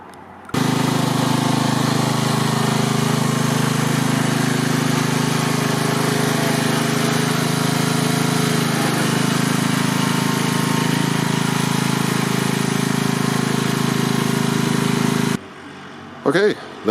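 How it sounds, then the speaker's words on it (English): A lawn tractor engine drives over a dirt mound on a trail. It gives a loud, steady, close rumble for about fifteen seconds before cutting off, then a brief burst follows. "So I have the lawn tractor out here, and we're going to see if we can get the lawn tractor over that mound"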